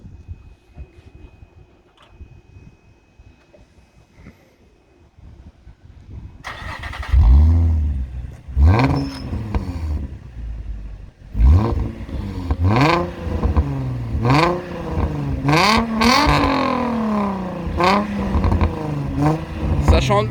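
A Nissan 350Z on its stock exhaust cranks and fires up after a quiet start, then gives a series of loud, close revs rising and falling, with people talking nearby.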